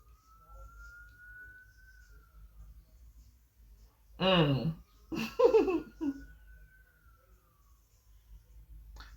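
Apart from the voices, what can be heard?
emergency vehicle sirens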